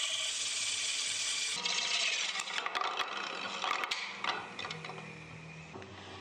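Walnut wood being sanded on a lathe: a steady, close abrasive rubbing hiss over the spinning workpiece that shifts in tone as pressure changes, with a few scraping bursts and no talking.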